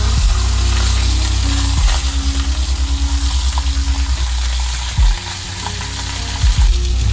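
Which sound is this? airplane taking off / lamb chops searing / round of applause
lamb chops searing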